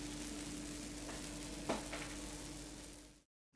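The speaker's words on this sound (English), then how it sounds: "Look at that bubbling." Overnight French toast crumble bubbling fresh from the oven, a steady soft sizzle and fizz close by with a faint hum, alone before it cuts off.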